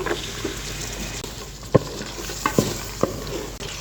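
Spoon stirring turmeric, chili powder and peas in a pan for a cabbage curry, a soft sizzle with a few sharp scraping knocks against the pan.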